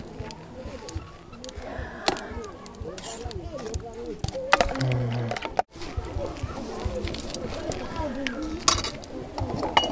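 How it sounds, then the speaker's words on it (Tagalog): Metal utensils clink and scrape against a dish as food is stirred, with light irregular knocks under near, ongoing conversation. "Tapos haluin natin."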